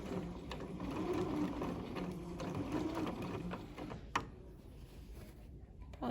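A sewing machine stitches waistband tape in one continuous run, a quiet, steady mechanical whir and patter, close by, with a small click near the end.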